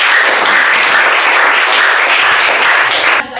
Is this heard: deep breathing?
no